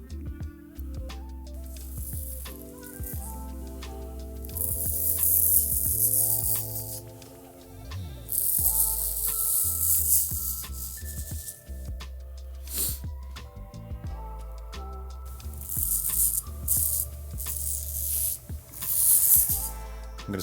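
A straight razor shaves a soaped head in repeated short, raspy strokes, close and distinct, set against continuous soft background music.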